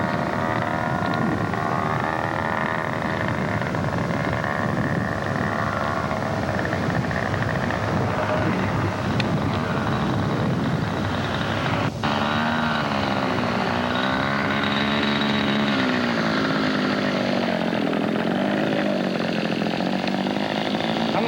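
Model airplane engine droning steadily and loudly as the large, light-wing-loaded kit plane circles in for a landing, its buzzing pitch shifting with distance and throttle.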